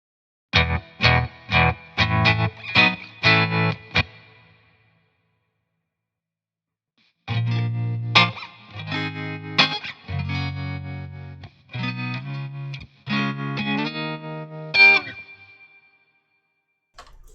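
A clean electric guitar runs through a free amp-simulator plugin with tremolo, playing a quick burst of plucked notes, then a pause, then a longer phrase of ringing, pulsing chords and notes.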